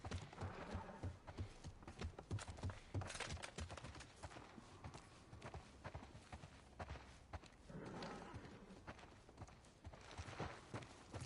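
Horse hooves clip-clop in The Last of Us video game, a quiet run of irregular hoof strikes with scattered thumps and movement sounds, fairly faint and without speech.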